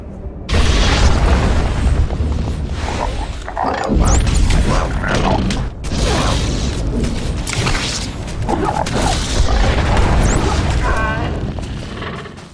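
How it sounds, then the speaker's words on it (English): Tanks explode in the Star Wars: The Old Republic video game, loud booming blasts and crashes that rumble almost continuously, with sharp laser-like zaps and brief voices in the mix. "The tanks are destroyed"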